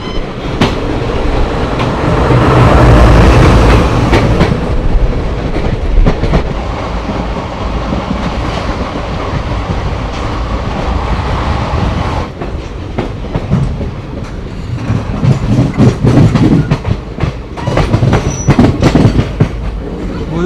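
A passenger train runs on rails just after leaving Pataudi Road station in India. A loud, continuous rumble fills the scene with clickety-clack wheel beats and a brief high wheel squeal near the end.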